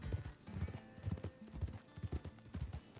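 Horse hooves clip-clop at a steady walking rhythm during riding in a Western-themed roleplay video game, close and fairly quiet with no talking.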